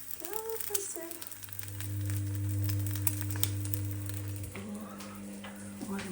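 An egg frying in a pan, a gentle sizzle running under a steady low hum that swells in the middle, with occasional soft clatters and a person speaking briefly.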